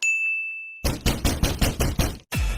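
Knocking on a door, a rapid run of about seven hard, close raps in a steady rhythm, with a short pause before one more knock. A brief bright ringing tone comes just before the knocks.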